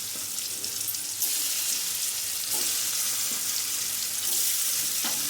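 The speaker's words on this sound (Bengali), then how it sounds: "পনিরগুলো খুব ডিপ করে ভাজবো না, হালকা হালকা করে ভেজে নেবো।" Paneer lightly frying in a pan gives a continuous, even hiss of sizzling oil with faint crackles throughout, moderately loud and with no voices.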